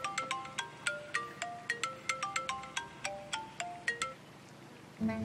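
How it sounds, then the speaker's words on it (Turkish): A phone ringtone plays a repeating bright melodic pattern of quick tones, steady and fairly close for several seconds, then cuts off at the end with a brief bump of noise. "Sürekli telefon çalıyor."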